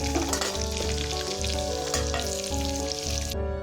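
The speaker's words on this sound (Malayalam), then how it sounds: "ഇനി നമുക്ക് ചിക്കൻ വറുത്ത കടായിൽ തന്നെ കുറച്ച് ഓയിൽ ഒഴിച്ച് ഇഞ്ചി, വെളുത്തുള്ളി, പച്ചമുളക് എന്നിവ വഴറ്റാം" Ginger, garlic and green chilli sauté in oil in a kadai that was just used to fry chicken, a close bubbling sizzle over a rhythmic pulsing hum that recurs about every half second.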